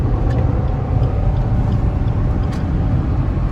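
A cheap brand-new small-engine car, driven in the Philippines, pulls up a steep hill at full throttle, its engine a loud, steady low droning rumble heard from inside the cabin.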